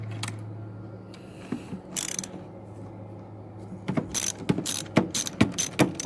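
Ratcheting clicks from a wrench loosening the 10mm battery terminal nuts on a Vauxhall Corsa C, bursts of quick pawl clicks growing busier and louder toward the end over a low hum.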